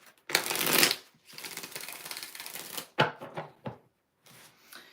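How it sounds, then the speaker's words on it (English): Playing cards are riffle-shuffled for a card reading, giving two or three close, crisp bursts of fluttering riffles separated by short pauses, heard alone. "2 more shuffles for the hell of it."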